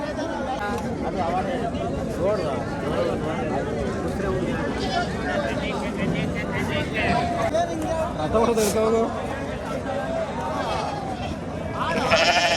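Sheep and lambs bleat at Magadi livestock market among a crowd, their calls rising intermittently over constant chatter and babble of many nearby voices.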